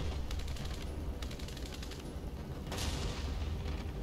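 Tank gunfire in the game War Thunder, with an AMX 30 ACRA tank in play: dull booms and bursts of rapid fire over a constant rumbling battle din, fairly loud and continuous.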